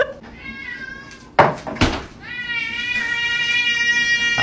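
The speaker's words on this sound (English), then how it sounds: "That cat is hungry." A hungry cat meows loudly and insistently at close range in long, drawn-out wails, broken by a couple of sharp knocks, with faint background noise throughout.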